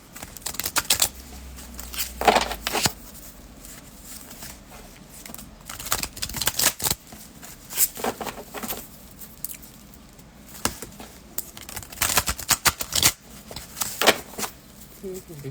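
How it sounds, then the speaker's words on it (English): Playing cards being shuffled by hand, repeated soft riffling bursts and patters at close range, interspersed with quiet gaps and faint handling noises. "I think that's enough shuffling."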